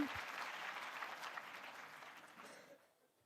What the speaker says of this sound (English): I want to say genuine applause.